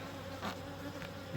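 Honey bees buzz around backyard hives, a faint, continuous hum with a few individual insects zipping close past in brief louder swells.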